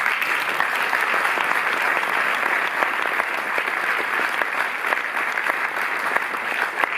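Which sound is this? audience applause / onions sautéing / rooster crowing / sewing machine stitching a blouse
audience applause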